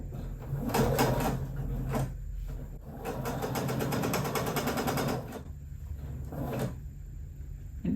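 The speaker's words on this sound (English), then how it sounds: "I'm going to sew right along here" A sewing machine stitches quilt-as-you-go blocks together in steady whirring bursts, close and continuous, pausing briefly between runs, with no talk.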